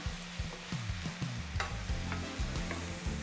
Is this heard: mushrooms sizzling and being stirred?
yes